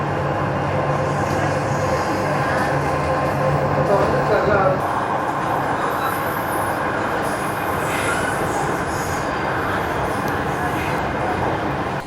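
A Chennai metro train rumbles steadily throughout, with occasional wheel squeals and rail clatter, heard from inside the carriage.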